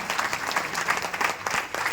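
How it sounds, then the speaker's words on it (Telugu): An audience at a morning business meeting claps together in a dense, sustained round of applause that fills the whole moment, close and loud, with no talking over it. "గ్రాండ్ అప్లాజ్ చేయండి ఒక్కసారి."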